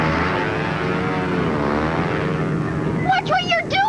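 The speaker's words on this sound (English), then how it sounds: "Nick, bring our model plane down to the ground. It might get in the way of Dr. Flight's plane" A propeller-driven airplane drones steadily overhead, a continuous, fairly loud engine hum with broadband rumble, while voices break in excitedly near the end.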